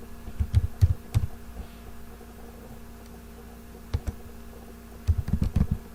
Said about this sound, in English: Now we are going to type